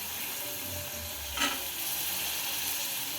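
Soaked white peas drop into sizzling masala in a pan, adding a brief louder splash to a steady, close frying crackle.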